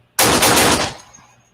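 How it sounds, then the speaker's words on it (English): A sudden loud burst of rapid gunfire lasting under a second, followed by a fading echo and a faint high ringing tone. "It's gonna be gunshots ringing out."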